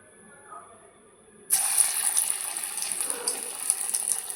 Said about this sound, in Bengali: আমি এখন বড়া ভেজে নিচ্ছি।